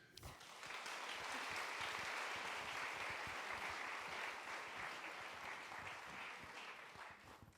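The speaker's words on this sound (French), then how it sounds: "On peut l'applaudir." An audience at a cultural centre talk by Annie Ernaux claps together in a sustained round of applause, dense and even, lasting several seconds before easing slightly at the end.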